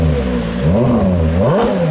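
A Ferrari Purosangue engine revs loudly and close, its pitch climbing and falling in quick blips over two seconds.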